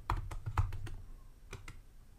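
Typing SQL commands on a computer keyboard: a short run of quiet, close key clicks, several taps in quick succession, then a brief pause and two more keystrokes.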